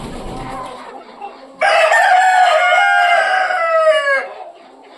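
A rooster crows loudly and close in a long drawn-out call amid a flock of farm chickens, with soft clucking before and after it; one hen in the flock is drowsy.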